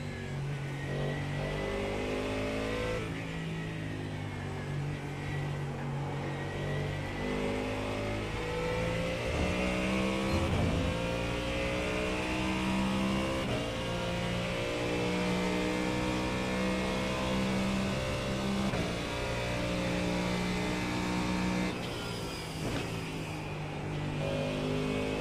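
Race car engine in a NASCAR racing video game on Pocono, Knoxville and Suzuka tracks, droning steadily with continuous high revs and rising and falling pitch through gear changes, loud throughout.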